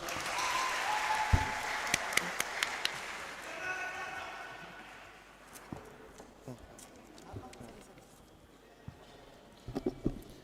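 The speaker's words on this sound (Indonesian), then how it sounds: "Tepuk tangan untuk regu A." Fairly quiet applause breaks out for a team at a church youth debate, a brief wash of clapping that thins into scattered claps and knocks while voices talk over it.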